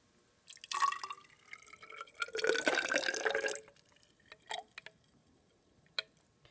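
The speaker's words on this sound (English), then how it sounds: "then you're going to pour it back into your graduated cylinder" Dissolved solution being poured back into a graduated cylinder in a lab setting, heard as two bursts of splashing liquid followed by a few faint drips and small taps.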